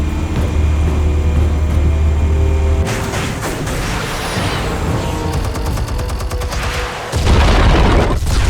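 Explosives detonating in the Batman Telltale video game, a deep rumbling boom that breaks into a crackling burst of debris and clatter, then a second heavy low thud near the end, loud and close.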